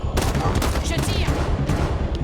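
Rapid gunfire bursts from a weapon in the game Halo 5: Guardians on Legendary campaign, loud and dense throughout, layered with low rumbling battle noise and no clear pauses.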